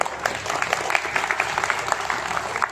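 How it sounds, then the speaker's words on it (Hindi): An audience at a devotional pooja gathering applauds: a soft, steady patter of many hands clapping, heard a little at a distance and continuing evenly without a clear peak. "तालियां हो जाए।"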